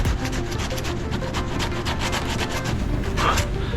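Plastic being sanded by hand, a steady rasping rub that continues without pause and stays close and fairly loud, with no voices over it.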